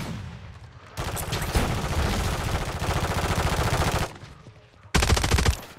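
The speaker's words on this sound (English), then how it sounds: "Oh, I'm getting sniped." Call of Duty gunfire in a team match: sustained, loud automatic bursts rattle for several seconds, stop briefly, then a second burst erupts close by.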